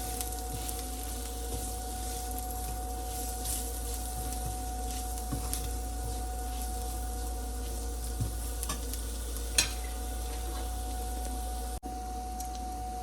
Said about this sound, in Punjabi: ਇੱਕ ਮਿੰਟ ਅਸੀਂ ਮਸਾਲੇ ਭੁੰਨਾਂਗੇ